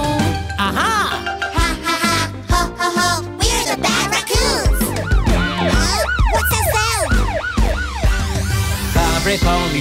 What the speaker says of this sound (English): every police car, ringing my siren